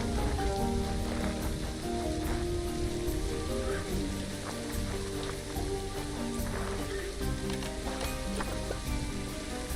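Rain in the video game Planet Zoo, a dense steady patter of drops on surfaces filling the whole stretch at constant loudness, with no talking.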